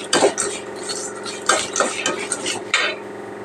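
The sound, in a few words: roasting peanuts in oil in a pan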